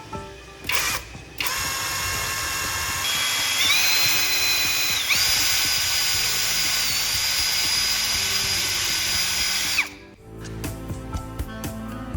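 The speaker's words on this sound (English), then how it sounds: "the round wooden rod is also drilled a hole in the center of its end" Power drill boring into the centre of the end of a round wooden rod: after a couple of short bursts, a loud sustained whine holds for several seconds, then cuts off, followed by brief clattering handling noises.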